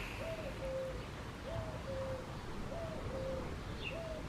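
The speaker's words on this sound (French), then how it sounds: "on entend le coucou" A common cuckoo calls outdoors, its falling two-note call repeated four times at an even pace, faint and distant over a constant wash of background noise.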